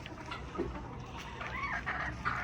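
Fighting roosters and chickens in a yard, clucking and calling in short bursts over a continuous noisy outdoor background, moderately close.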